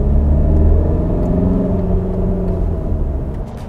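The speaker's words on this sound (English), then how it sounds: "here is where you hear the engine running." Volkswagen Tiguan 2.0 TDI diesel with DSG gearbox and 4Motion, engine pulling under acceleration around 3000 RPM, a steady, loud, low droning rumble heard from inside the car without any talk.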